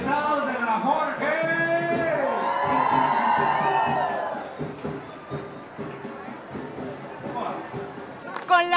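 School graduates of the Jorge Washington school cheer and shout together at a saint's day parade in San Ramón, a loud, sustained crowd roar that fades into scattered voices and street noise.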